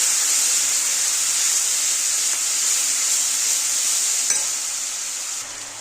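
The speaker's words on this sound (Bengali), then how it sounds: "এবার ভালো করে কষিয়ে নেব।" Spices with salt and turmeric sautéed in a pan, giving a steady, loud sizzle and hiss that eases slightly near the end, with one brief scrape of stirring.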